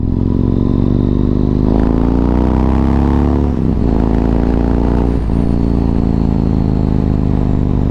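A motorcycle engine runs loud and close throughout, with a steady rumbling idle, revs that rise and fall, and brief dips in the middle. No one speaks.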